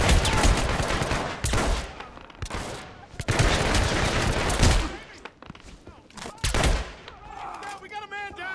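Rapid bursts of gunfire in the Hitman: Absolution video game, dense overlapping shots coming in loud waves with brief gaps, ending with a tonal game sound, close and harsh.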